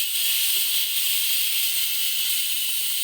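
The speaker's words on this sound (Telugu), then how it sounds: "పప్పు 2 విజిల్స్ వచ్చింది" A pressure cooker cooking dal lets out a steady, loud hissing whistle of escaping steam that runs continuously without a break.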